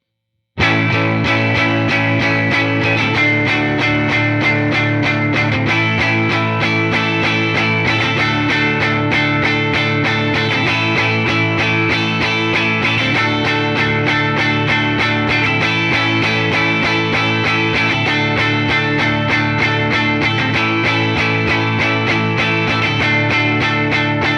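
Distorted electric guitar plays continuously through a cranked Fender Tone Master Deluxe Reverb amp, miked with a Shure SM57, thick and gritty with sustained chords and no voices.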